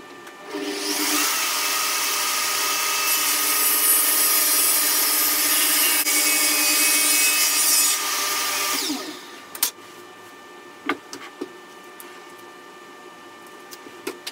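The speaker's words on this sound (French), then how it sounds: "je mets cette face-ci sur la scie sous table et je coupe ici pour obtenir 90 degrés" A table saw rips through a wooden board, a loud steady whining cut lasting about eight seconds before it stops, leaving a few faint clicks and knocks in a quiet room.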